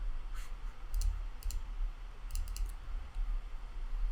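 Several crisp computer mouse clicks in pairs and singles over a low steady hum, close and fairly quiet, with no talking.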